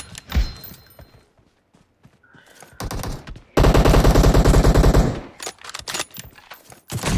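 Rapid bursts of automatic gunfire from PUBG Mobile team deathmatch, loud and close, with a dense sustained volley in the middle and scattered shots before and after.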